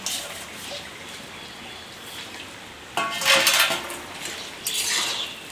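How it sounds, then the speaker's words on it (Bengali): Small fish are tipped into a pan of curry with Malabar spinach (pui shaak) and land with a close burst of clattering and sizzling, followed by a second, shorter scrape. Before that there is a quiet kitchen hiss, with no voices. "পুরোপুরি হয়ে গেছে, এখন আমি মাছগুলো দিয়ে দেব"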